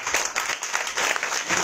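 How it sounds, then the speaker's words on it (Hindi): An audience at a Srimad Bhagwat Saptah religious gathering in Kota, Rajasthan claps loudly and steadily, a dense burst of hand claps filling the short moment. "इसलिए इनके जोरदार ताली बजाओ सबके साथ"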